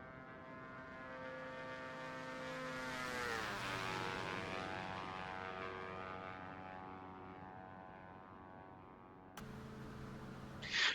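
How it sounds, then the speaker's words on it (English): A DA62 twin-engine propeller aircraft from a flight simulator game makes a flyby, its buzzing engine drone swelling and sweeping down in pitch as it passes, then cutting abruptly to a steady engine hum near the end. "Let's do a flyby then"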